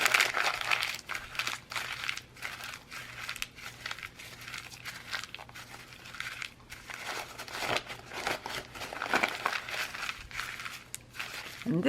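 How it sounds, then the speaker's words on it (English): Oil-soaked journal paper pages get crumpled by hand, giving continuous close crinkling and crackling with uneven bursts and brief pauses, played alone without talk. "So now what I'm going to do is just crumple it up."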